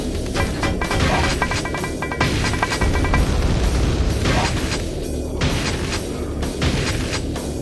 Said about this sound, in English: I almost took grenade to the face.